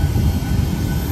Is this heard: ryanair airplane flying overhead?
yes